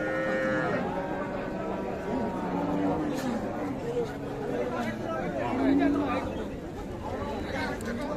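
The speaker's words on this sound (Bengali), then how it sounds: "দু বয়সের গাভী এই যে এইটি দেখা দেখি চলছে শাহিওয়াল সার বাচ্চা" A Sahiwal cow lows at a cattle market, drawn-out moos rising over a constant babble of buyers and sellers talking close by.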